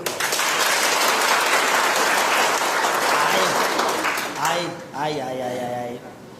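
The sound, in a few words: audience applause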